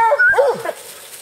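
A hound puppy on a wild boar hunt lets out a short, loud, high-pitched yelp that trails into a brief whimper, close by and alone.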